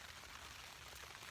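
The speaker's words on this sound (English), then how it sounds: "it's raining / sleeting now" Steady rain and sleet patter on a tent from outside during winter camping, a faint, even hiss of drops with no clear gaps and no voices.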